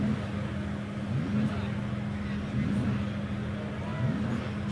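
A vintage MG NA sports car with a small straight-six engine and only a Brooklands silencer at the back of the exhaust, idling with a steady low throb at a hill climb, with faint voices nearby.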